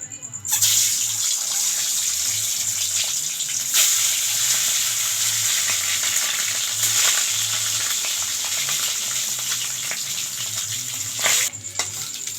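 Boiled eggs coated with salt and turmeric fry in hot oil in a kadai, giving a continuous loud, close sizzle and crackle with a few sharper bursts, and faint talk in the background.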